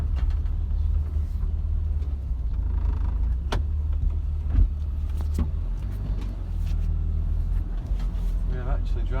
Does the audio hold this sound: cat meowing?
no